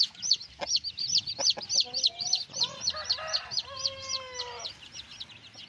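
Newly hatched purebred pamaiq straightcomb chicks and their hens in a backyard give rapid repeated high peeps, with a few longer calls from adult chickens mixed in, fairly close.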